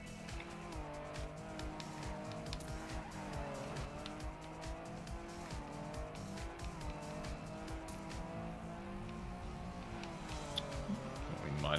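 Rally car in the Trackmania racing game sliding across ice, a steady, droning engine note with shifting pitch as it revs and skids, heard continuously at moderate level.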